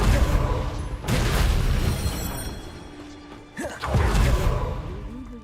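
An Incendio fire spell cast in Hogwarts Legacy bursts out as loud booming whooshes and crashing impacts, with a brief dip before a second heavy blast.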